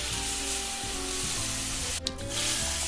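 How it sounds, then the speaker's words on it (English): Beef rice noodles (ho fun) stir-fried in a wok, with a steady loud sizzle and occasional scraping tosses, and one brief sharp clatter partway through. "next we want to put in our 河粉, and then we want to stir them together"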